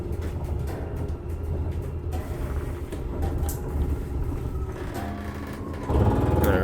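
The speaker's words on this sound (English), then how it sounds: "Sounds like a rack and pinion." Electric RV slide-out room motor with a rack and pinion drive on an Alliance travel trailer, grinding as a steady, close, continuous mechanical whir that grows louder and heavier near the end.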